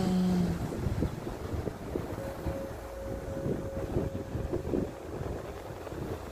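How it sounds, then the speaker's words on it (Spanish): The sea washes and rushes in a steady broadband wash, with gusts of wind buffeting the microphone and a faint low hum running underneath. "el sonido del mar"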